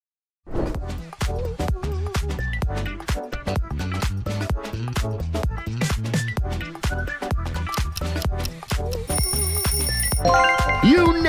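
Skittles logo jingle: bright, busy electronic music with rapid percussive hits and chiming tones, ending in a rising sparkle, loud and without talk.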